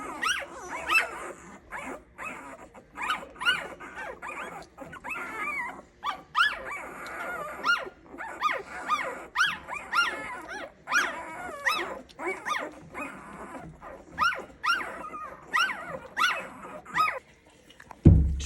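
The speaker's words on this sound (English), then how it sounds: "Our puppy choir" Ten-day-old Old English sheepdog puppies whimpering, squealing and yapping in a steady chorus of short, overlapping cries, fairly close and moderate in level.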